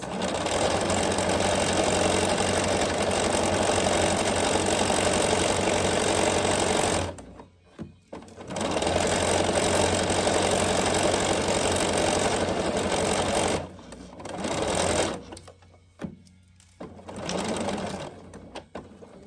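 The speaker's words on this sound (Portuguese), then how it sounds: "giramos o tecido e continuamos a cozer até ao topo" A sewing machine stitches fabric in a fast, steady mechanical whir that runs for several seconds, stops, starts again, then breaks into shorter bursts with brief quiet gaps between them.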